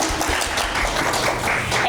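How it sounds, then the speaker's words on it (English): An audience claps for a panelist at a history and sociology panel discussion, producing a loud, steady wash of applause that continues throughout. "But you have to clap for every panelist."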